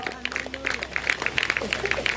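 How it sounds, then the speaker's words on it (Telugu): A congregation at a Christian gospel gathering in Kuchipudi village breaks into clapping. Scattered, sharp claps build after a brief bit of voice at the start, then continue unevenly at moderate loudness. "చప్పట్లు కొడదామా ప్రియులారా?"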